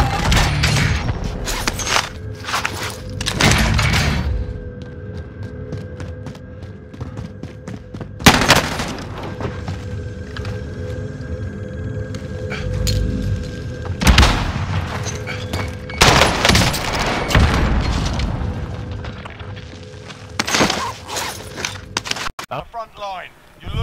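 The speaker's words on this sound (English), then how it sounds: "They're shooting me now." Gunfire in Call of Duty Warzone arrives as repeated loud shot bursts and rapid volleys across more than twenty seconds, mixed with game noise and voices talking over it.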